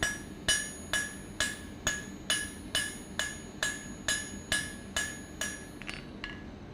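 Steady hammer blows on hot steel spreading out a leaf hook at the anvil, about a dozen evenly spaced ringing strikes, loud and close, with no talk.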